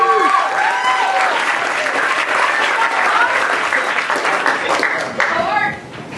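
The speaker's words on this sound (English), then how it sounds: "Clap as Rosie comes to the mic." An audience bursts into sustained applause as a performer named Rosie comes up to the mic, a dense wash of many hands clapping with a few whoops and shouts, fading out near the end.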